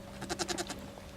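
Goats on a homestead bleat close by in a quick run of wavering calls over a low steady background hum.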